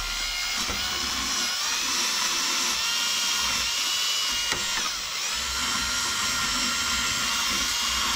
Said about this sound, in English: our little wire brush here. We've got to clean these threads off.